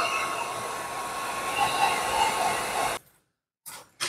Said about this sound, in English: So I'm going to come in here with my heat gun really quick.